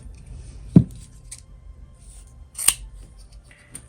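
Scissors snip through a lace zipper, cutting it in half: one sharp crisp cut near the start, then a second snip a couple of seconds later, with faint handling rustle in a quiet room.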